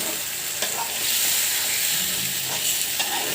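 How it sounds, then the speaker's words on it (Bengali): Spices and tomato fry in a pan with turmeric, chili powder and salt for a hilsa fish curry with potato and eggplant, a steady broadband sizzle with occasional scraping stirs, close and alone. "আমি এখন সুন্দর করে মশলাটা কষিয়ে নেব একবারে।"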